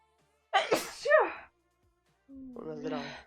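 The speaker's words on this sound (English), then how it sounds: "I'm gonna sneeze." A single sharp human sneeze bursts out close up, followed after a pause by a short voiced sound.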